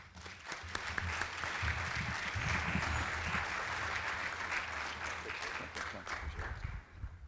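Sustained audience applause fills a conference hall at an opening session, steady dense clapping from start to finish as a speaker is welcomed to the stage, easing slightly near the end.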